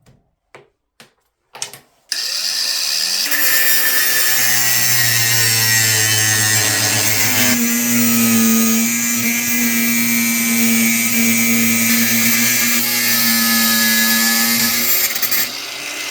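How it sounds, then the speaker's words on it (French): A power tool cuts a folding-knife blade out of 14C28N steel, a loud, steady whine with a sustained pitch that shifts partway through, running nearly the whole time after a few short knocks at the start. "il va falloir tailler la lame dans la part 14C28N et les deux manches dans le G10"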